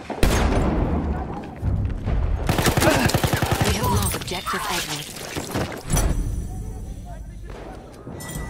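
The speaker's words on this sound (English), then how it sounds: "Enemy sighted. Enemy machine gun." Battlefield 1 video game combat with machine gun fire and explosions, loud bursts of rapid shots and booms mixed with shouted voices and chaotic battle noise.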